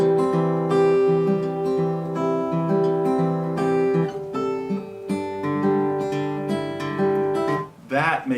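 Acoustic guitar fingerpicked passage for a song: a pinched G moving up to a high A over a fretted C in the bass, ringing melodic notes and sustained chords in a steady flowing phrase, close and alone.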